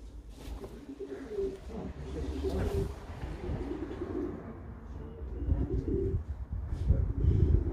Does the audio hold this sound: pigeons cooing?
yes